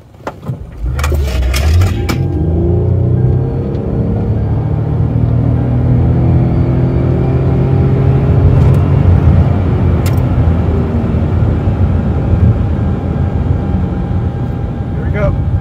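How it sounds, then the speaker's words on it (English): A Toyota Highlander Hybrid accelerates hard in a 0-60 mph run, with a sharp click at the start, then a loud rising engine and motor drone with road rumble, heard from inside the cabin and building steadily, with someone speaking over it. "Highlander Hybrid 0-60 test using the torque app"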